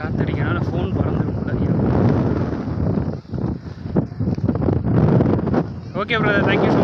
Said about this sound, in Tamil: காத்தடிக்கிறனால ஃபோன் பறந்துடும்.